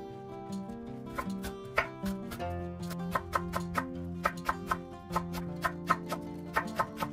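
A knife chops green onion in quick, even taps on a cutting board, each crisp and close, sounding over a soft musical background.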